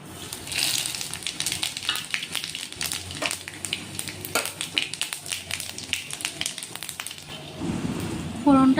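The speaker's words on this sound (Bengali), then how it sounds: "তেল গরম হলে আমরা 5 ফোড়ন, জিরে, শুকনো লঙ্কা, তেজপাতা সব দিয়ে দেবো তেল।" Five-spice, cumin seeds, dried red chillies and bay leaf dropped into hot oil in a wok, crackling and sizzling with sharp popping bursts throughout, close and moderately loud, with a louder hiss near the end.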